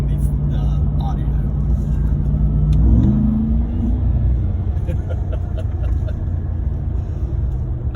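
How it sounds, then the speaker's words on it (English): A Ram TRX pickup drives along with its supercharged engine rumbling and accelerating, a rising whine surging briefly partway through, heard from inside the cab under a talking voice. "I'm sure that supercharger whine is coming through the audio."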